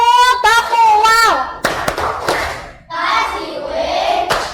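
Children in a classroom chant together and punctuate the rhyme with bursts of hand claps, voices loud and close, the claps landing as sharp slaps between and over the chanting.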